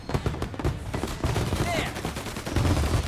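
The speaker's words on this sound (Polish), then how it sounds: "No tam nawala ktoś do mnie z maszynówki." Rapid machine gun fire rattles in a Mafia: Definitive Edition shootout, dense bursts under scattered game noise with fireworks popping, loud and continuous throughout.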